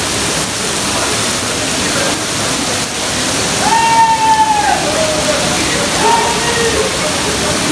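Steady rush of water pouring off the rock of Umbrella Waterfall, a continuous broad wash heard close and fairly loud throughout, with a few faint whistle-like tones drifting over it.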